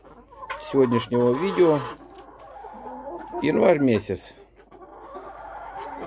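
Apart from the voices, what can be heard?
hens clucking, Orpington broody hens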